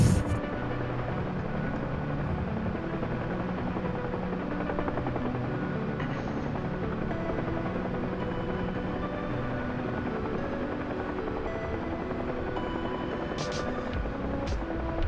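Huey helicopter flying in the DCS flight simulator, a steady rotor and turbine drone that stays constant and moderately loud throughout, with no talk over it.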